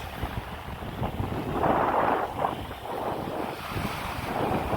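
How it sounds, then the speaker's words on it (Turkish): Sea waves break and wash onto a sandy beach at Şile, a continuous rushing surf with heavy wind buffeting the microphone, swelling at times and staying close and loud throughout. "Dalga gelir."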